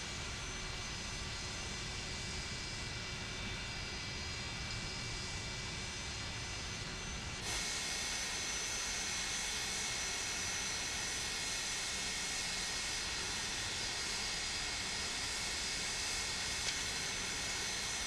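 Aircraft jet engines run steadily on an NHL charter airliner in Microsoft Flight Simulator, a loud continuous roar and hiss with a sudden shift in tone partway through, no voices.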